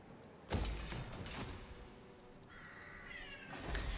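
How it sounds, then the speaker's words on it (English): A house cat meows faintly in the background of a quiet room, with a couple of soft thumps before a drawn-out, wavering meow near the end. "I don't know if you guys can hear it, but one of my cats is making a little bit of noise in the background."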